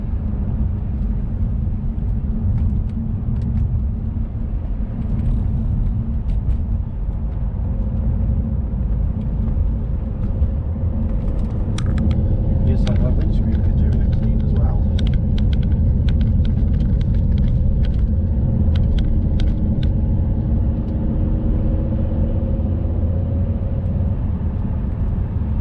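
A car drives along a road with a steady low engine rumble and tire noise, with occasional faint clicks and rattles inside the cabin.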